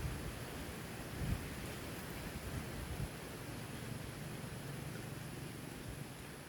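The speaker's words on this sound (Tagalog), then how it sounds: "lakas napakalakas ng hangin napakalamig" Steady, broadband roar of strong, cold wind in an open field being prepared for sweet potato planting, constant and fairly strong, with a few low gusty thumps against the microphone.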